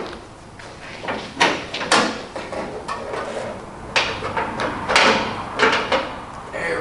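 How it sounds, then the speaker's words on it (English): The hood of a 1973 Ford Bronco 4WD being opened and propped, a run of close metallic clunks, creaks and rattles at irregular intervals, with a few sharper knocks as the prop rod goes into place. "Now we are going to go ahead and open up our hood"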